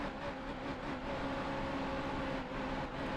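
Race car engine in NASCAR Heat Evolution, a steady droning whir held at constant pitch during the race, moderately quiet and continuous without voices.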